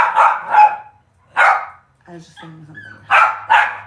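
A dog barks in short repeated bursts close by, first as a quick pair, then once, then another pair, while a person speaks briefly in between.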